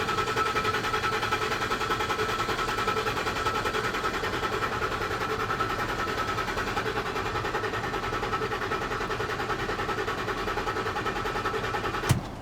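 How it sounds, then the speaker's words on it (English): Car engine cranking during a relative compression test, a steady, rhythmic churning that runs evenly for over ten seconds at moderate level, ending with a brief sharp click. "It is saying crank engine for 10 seconds."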